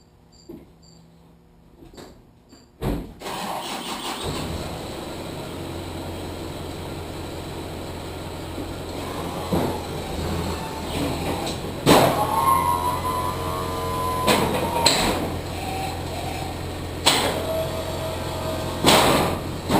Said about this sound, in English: let's check out how the plow moves